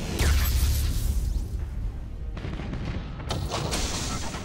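Ship broadside cannon fire in the space battle game Battlefleet Gothic Armada, from Imperial ships: loud, continuous rolling barrages of booms and bursts, with fresh volleys cutting in near the middle and the end.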